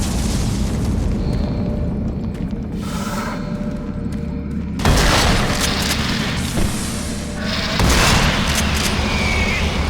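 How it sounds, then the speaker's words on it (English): Automated turret guns blasting in DOOM 3 VR Edition, a dense, continuous roar of booming gunfire and explosions that swells into louder bursts near the middle and end. "Warning, automated turret guns online."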